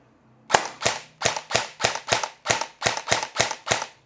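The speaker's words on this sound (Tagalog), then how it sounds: "So tara, try natin ang semi-auto." An airsoft rifle with a metal handguard and receiver and an adjustable buttstock fires eleven sharp semi-automatic shots in steady succession, loud and close, with nothing else around them.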